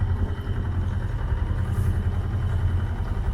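A sailboat's auxiliary motor drones steadily while the boat motors along under genoa sail on a crossing to Corsica, a continuous low hum with wind and water noise and no talk.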